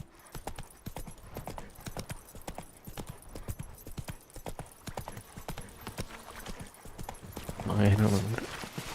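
Roach the horse's hooves clip-clop steadily at a trot in The Witcher 3: Wild Hunt, a continuous rhythmic patter of hoofbeats with a player talking over it and a louder burst near the end.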